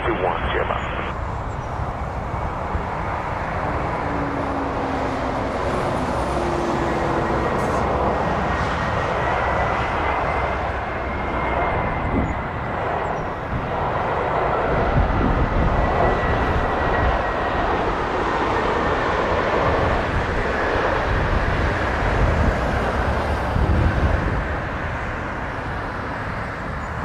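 A jet engine roars steadily as an aircraft takes off from runway 23 at Toronto Pearson Airport. The broadband rumble is loud, sustained and slowly swelling, with faint radio chatter in the background.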